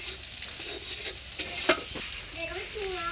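Noodles stirred and frying in a hot pan with turmeric and salt, a steady sizzle with scraping stir strokes and a sharp clink near the middle, no talking.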